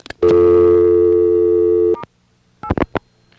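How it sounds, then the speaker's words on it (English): On a 1A ESS Centrex line from 1983, a loud steady busy-type tone holds for about two seconds, then a short gap gives way to a quick burst of dialed tone pulses for the call pickup code. "I'm now going to flash and dial the call pickup"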